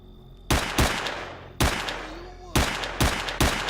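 Pistol fire in the shooter game S.T.A.L.K.E.R.: Shadow of Chernobyl, loud sharp shots in irregular pairs and singles over about three seconds, each with a short ringing tail.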